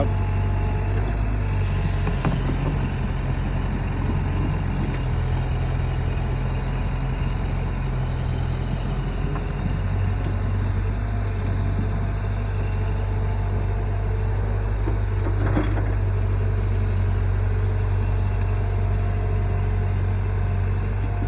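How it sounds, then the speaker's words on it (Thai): An old Komatsu series 7 excavator's heavy diesel engine runs at a low, steady throttle, a constant close rumble with a slight lift in pitch, no voices. "เร่งเครื่องเบา"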